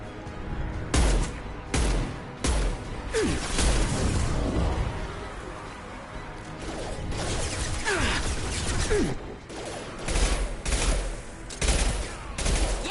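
Pistol gunfire in the combat game Mass Effect 2 Legendary Edition: repeated loud bursts of shots with whooshes and impact crashes, separated by brief lulls.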